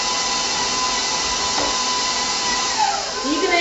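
A stand mixer kneads Easter bread dough with a steady, loud motor whine that holds constant throughout, slightly rising and wavering near the end, up close and with no talking.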